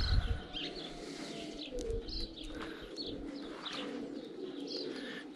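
Racing pigeons kept in a dovecote coo repeatedly in low, throaty phrases, with scattered chirps and soft rustling from several birds close by, continuous and moderately loud without any talking.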